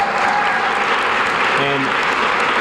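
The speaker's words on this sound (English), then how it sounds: "give a brief round of applause for Marianne for her work" An audience at a Women of Action event gives a brief round of applause, a dense, steady clapping that fills the room, with some voices heard over it.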